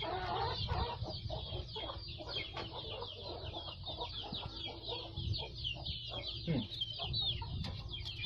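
Chickens cluck and chatter close by in a busy, continuous flock, with overlapping calls and a few sharper squawks throughout.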